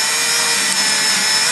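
A brad point bit bores into wood, giving a steady, loud, unbroken grinding and whirring that runs the whole short stretch without a pause.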